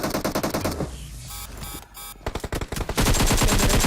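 Gunfire in a shooting video game, rapid automatic bursts with dense repeated shots, a short lull, then heavier continuous firing close and loud.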